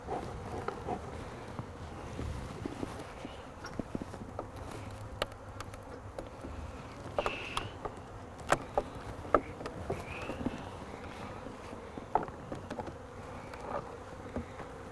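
Honeybees drone steadily at an opened hive fitted with a beetle trap, a dense close buzz continuing throughout with scattered clicks and faint handling noises.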